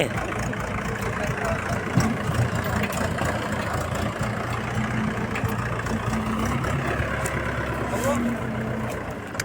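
A low, steady tractor engine idles continuously nearby, rumbling evenly throughout, with voices talking over it while loading fertilizer.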